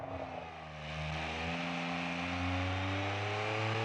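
Straight-piped car engine with no exhaust in a BeamNG racing game, a raw, buzzy drone that climbs in pitch as it revs up and then holds steady, loud and continuous with no talk.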